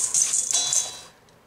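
Chickpea flour, breadcrumbs and salt are stirred together in a bowl, giving about a second of close, bright, gritty scraping and rattling that then quickly dies away.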